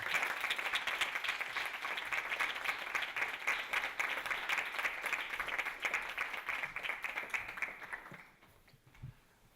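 An audience applauds the participant readers at a creative writing workshop reading: a room full of dense, lively clapping holds steady for about eight seconds, then thins out and fades to scattered claps.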